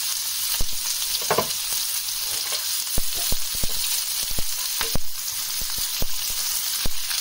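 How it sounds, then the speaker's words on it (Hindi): Boiled chickpeas fry in hot oil for a Ramadan chana pakori chaat, giving a steady close sizzle with scattered sharp pops and spoon scrapes throughout, no voices. "तो उसके बाद मैं इसमें ये जो बॉइल्ड चने हैं वो मैं इसमें डाल रही हूँ।"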